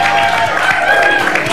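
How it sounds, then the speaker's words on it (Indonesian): A studio audience on an Indonesian TV talk show claps and cheers, a dense sustained wave of applause filling the room at full volume, with a few whoops rising above the clapping. "tepuk tangan dulu dong yang luar biasa buat Desi."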